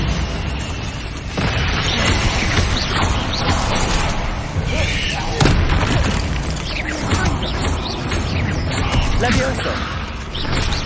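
Bombarda blasting spell explosions in the Hogwarts Legacy video game, heavy booms and crashing debris inside a constant loud din of spell combat, with voices heard.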